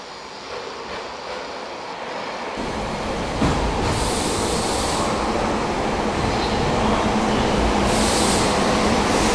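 SEPTA regional train, a late-running Norristown local, arriving at 30th Street station: a low rumble builds into a loud, steady roar of wheels and engine with sharp clanks, close by.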